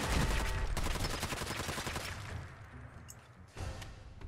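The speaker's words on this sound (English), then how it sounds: "Grab the nearest rifle, equip that thing, and shoot my own turret right in its face." Rifle fire at a turret in Fallout 4: a rapid burst of loud gunshots that trails off, followed by a single further impact, all close and dense.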